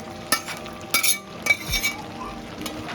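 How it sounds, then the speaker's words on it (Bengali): Fried fish head and bones dropped into a pan of Malabar spinach greens for a Bengali chorchori, giving a few sharp metallic clinks and clatters over a low sizzle; no talking. "আগে যে মাছের কাঁটাগুলো ভেজে রেখেছিলাম, মাছের মাথা কাঁটা, এগুলোকে এবার দিয়ে দেবো"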